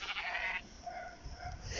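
A sheep in the mobile game Minecraft Earth gives a few close, clear bleats, with no talking over them.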